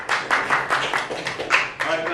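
An audience claps at a morning community breakfast forum with county commissioners, producing a quick run of dense, evenly spaced hand claps, close and fairly loud.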